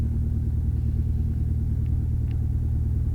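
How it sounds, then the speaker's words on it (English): Loud, steady engine drone fills the cabin of a 1966 Mooney M20F light aircraft in flight, a deep droning rumble with a constant pitch that continues unbroken throughout. "This plane is very, very loud if you can't notice from the video."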